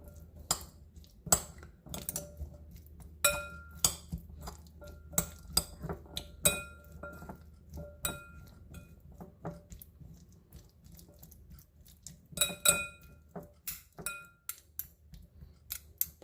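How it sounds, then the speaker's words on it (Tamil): Red kidney bean salad being stirred in a bowl, with a string of sharp clinks and scrapes of a utensil against the dish, irregular and close, without talk. "ஸோ இப்போ நாம் இதை நல்லா மிக்ஸ் பண்ணி விட்டுறலாம்."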